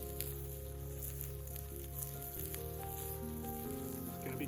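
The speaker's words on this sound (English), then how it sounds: "Okay, she's sizzling." A steady, faint sizzle of fish frying in a pan on a rock outdoors, crackling softly and continuously.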